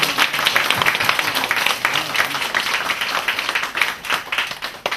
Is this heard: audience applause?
yes